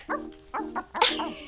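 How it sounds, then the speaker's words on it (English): A dog gives a short series of close, sharp barks and yips during a training session, three or four quick bursts within a second and a half, with no voices in between. "I was just finishing up a little doggy training session with my best dog, Stormy Jane."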